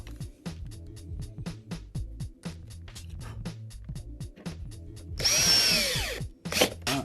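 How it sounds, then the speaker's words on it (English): A power drill driving a screw into a drawer unit revs in quick ratcheting pulses, then runs in a longer whining burst and a final short spin, close and fairly loud. "take your drill, making sure it's flush at the front"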